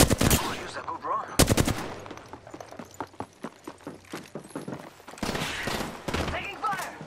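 Gunfire in Apex Legends: loud bursts of automatic fire and scattered single shots, close and sharp, with rapid clusters near the start and again toward the end, over game voice lines and background noise.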